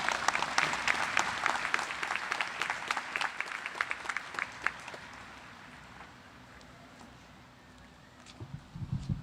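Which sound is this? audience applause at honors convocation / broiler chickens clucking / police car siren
audience applause at honors convocation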